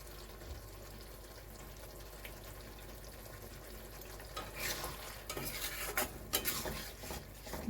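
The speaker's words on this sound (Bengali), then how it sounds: "যে সসটা বানিয়ে রেখেছিলাম সেইগুলি কড়াতে দিয়ে দিলাম" A prepared sauce goes into a hot wok of chilli fish; after a quiet start, a louder burst of sizzling and clattering stirring follows near the end.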